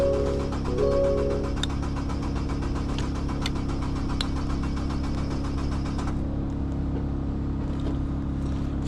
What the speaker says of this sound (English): I'm gonna try to crank it. It's cranking